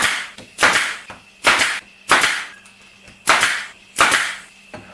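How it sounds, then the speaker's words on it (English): A staple gun fires canvas onto a pallet wood frame, six sharp snapping shots at roughly even intervals, close and loud with quiet gaps between. "Now I just staple it"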